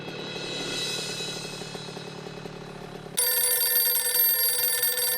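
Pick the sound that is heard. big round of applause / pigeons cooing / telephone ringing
telephone ringing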